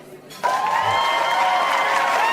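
Applause with some cheering for a birthday on a podcast bursts in abruptly after a short quiet moment, then carries on as a steady, fairly loud wash of clapping and crowd noise.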